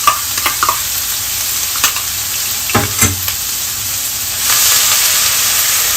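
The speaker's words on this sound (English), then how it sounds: "we're going to just add the ginger garlic and chili paste which I made" Ginger, garlic and chili paste hits a hot pan with a close, steady sizzle while a utensil stirs it with scraping clacks, and the hiss swells louder toward the end.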